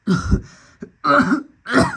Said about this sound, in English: He coughed.